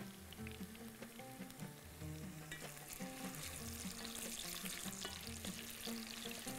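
Food fries in a pan with a dense, steady sizzle and crackle, with faint clinks and stirring mixed in, heard close and fairly quiet with no voices.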